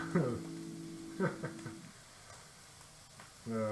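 Shrimp and cauliflower rice stir-fry sizzling faintly in a pan, a low steady hiss running under people's voices, with a humming voice near the start.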